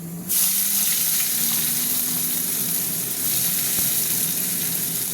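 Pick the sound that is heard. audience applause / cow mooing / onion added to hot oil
onion added to hot oil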